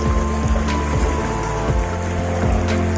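A strong river current rushes steadily and loudly around someone wading across, with dull knocks and sloshing layered over the constant flow.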